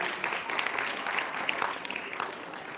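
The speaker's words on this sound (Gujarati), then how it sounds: "આપણે દરેક જણ તાળીઓના ગડગડાટથી" An audience applauds to welcome a guest at a village public event, sustained dense clapping from many hands at moderate volume.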